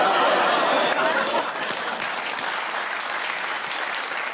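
Studio audience on a British TV comedy panel show applauding loudly and steadily, a dense wash of clapping that starts strongest and settles slightly lower, with no voices over it.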